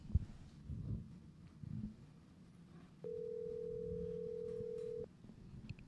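A telephone dial tone sounds as a single steady pitched hum lasting about two seconds before cutting off, preceded by quiet room rustle and handling noise while preparing to place a call.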